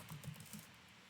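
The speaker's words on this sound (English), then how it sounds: "Typing was not my thing in school." Quick, light tapping on a computer keyboard, a short burst of soft clicks that trails off into a quiet room.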